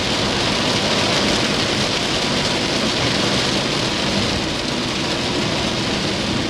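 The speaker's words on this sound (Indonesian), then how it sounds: "Ini hujan, saya tak pelan-pelan dulu karena jalannya memang nggak kelihatan." Heavy rain pours over a car driving slowly along the Semarang–Malang toll road, a loud, unbroken roar of water and road noise with no talking.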